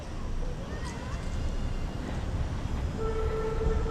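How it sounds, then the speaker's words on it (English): A train rumbles past at moderate distance, a broad low roar with faint screeching and a brief horn-like tone near the end. "I can hear a train."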